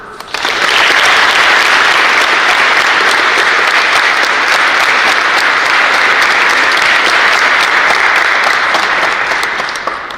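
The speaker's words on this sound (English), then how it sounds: "Please join me in thanking them with a round of applause." At Central Catholic High School's National Honor Society induction, a large audience gives the inductees loud, close, dense applause. It swells quickly, holds steady for about ten seconds and tapers at the end.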